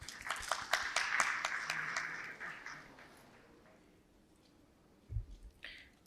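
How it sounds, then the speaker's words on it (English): Scattered audience clapping at a certificate distribution ceremony, a few claps loud at first, then thinning and fading away, followed by quiet room sounds and a soft thump. "A big round of applause, please."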